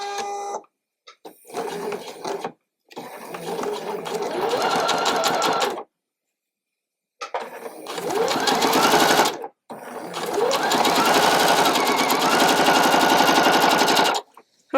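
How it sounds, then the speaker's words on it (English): Sewing machine running quarter-inch seams along a diagonal line on a quilt block, several loud bursts of fast rhythmic stitching separated by short pauses. "I'm going to sew a 1/4 inch along both sides of this diagonal line here"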